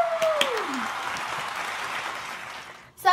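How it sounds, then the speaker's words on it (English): Fake applause sound effect, a burst of clapping and cheering in a short comedy skit, steady and fairly loud for about three seconds before cutting off abruptly, with a falling whistle-like tone at the start. "Fake applause."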